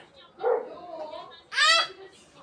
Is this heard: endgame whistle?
no